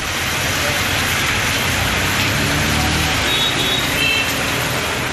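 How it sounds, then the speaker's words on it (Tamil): Heavy rain pouring down in Vellore, a dense steady hiss of falling water on surfaces with a faint rumble of passing road traffic underneath and no talking. "வேலூரில் ஒரு மணி நேரம் கொட்டி தீர்த்த மழை"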